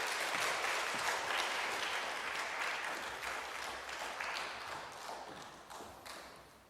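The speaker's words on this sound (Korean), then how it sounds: "여러분, 우리 목사님 우리 큰 박수로 맞이하도록 하겠습니다" Church congregation at a Wednesday service giving a warm round of applause to welcome the pastor, dense clapping from many hands in a reverberant hall, gradually tapering off.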